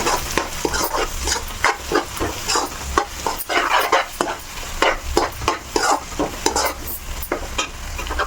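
Egg and raw prawn curry with masala powder is mixed in a pan. The spatula scrapes and clatters busily and close, with rapid, irregular strokes over a steady sizzle.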